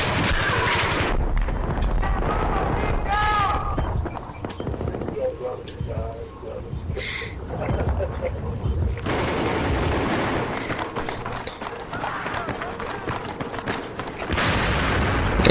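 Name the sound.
ACW-R rifle firing rapidly in a video game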